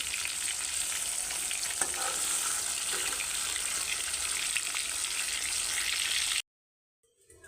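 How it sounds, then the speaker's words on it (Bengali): Katla fish rubbed with turmeric and salt frying in hot oil, a dense, even, close sizzle with a few stirring touches that stops abruptly, followed by near silence. "দেখো বন্ধুরা, মাছ ভাজছি আমি"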